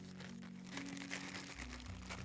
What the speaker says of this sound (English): give our little bag a shake